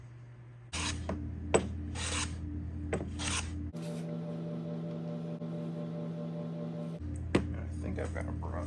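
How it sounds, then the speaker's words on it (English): Rasping strokes of a hand plane sole being rubbed flat on abrasive stuck to a sander, in repeated bursts of several seconds with a steadier machine hum between them. "I'll do the old glue and sander trick"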